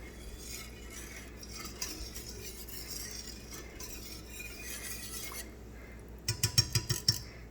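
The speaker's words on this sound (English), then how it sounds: "every once in a while you just want to run your whisk across the bottom of the pan, make sure nothing's sticking" A whisk scrapes slowly across the bottom of a pan of thickening gravy in a home kitchen, making faint, steady stirring sounds, then a short burst of metallic clinks near the end.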